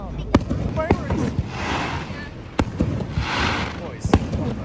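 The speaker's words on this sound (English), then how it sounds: "Bombs going off. Hey, bombs, get down. Fireworks." Fireworks bang nearby in sharp, sudden reports spaced a second or so apart, with crackling hiss between them. Excited voices shout over the blasts.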